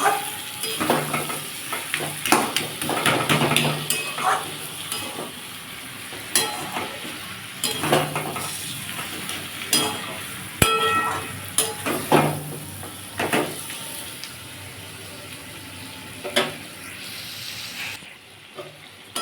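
Gourd greens and eggplant sauté with a fish head in a pan, a steady sizzle running beneath repeated metal stirring scrapes and clinks at an uneven rhythm.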